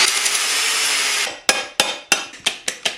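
Work on a stripped connecting rod bolt during an Audi S4 B9 3.0T V6 engine teardown gives a steady grinding whir with a bolt extractor, then a run of six sharp metallic knocks at a quickening pace, loud and close.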